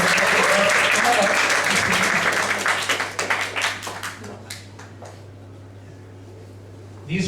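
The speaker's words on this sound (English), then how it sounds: "Give them a round of applause." An audience gives hearty applause to thank the hosts; the thick, loud clapping thins into scattered individual claps and dies away, leaving a low steady hum with a faint stir at the end.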